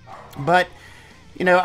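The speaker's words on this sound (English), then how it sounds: "Sorry about my dog. He just wanted to weigh in." A small dog barks twice indoors, each bark short and loud and about a second apart, under a person talking nearby.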